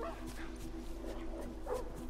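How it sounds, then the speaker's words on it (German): Dogs bark in the video game The Last of Us Remastered, a few faint yips and short whimpering barks set back in a steady hum of background game sound. "Ich glaube, die Hunde, die tun mir nichts."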